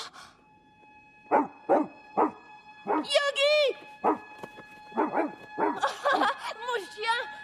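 Several sharp dog barks in quick succession in an animated film, followed by a person calling out excitedly in French over more barking and yips.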